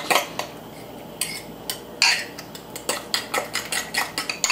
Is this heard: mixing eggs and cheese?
yes